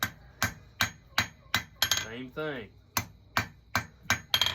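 Steady hammer blows ring on an anvil while a steel wall hook is forged, about ten sharp metallic strikes in even rhythm, with a brief spoken remark in the middle.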